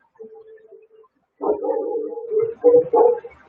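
A dog gives a drawn-out whining note, then breaks into a series of short muffled barks and yelps, moderately loud and somewhat distant, with no talking over it.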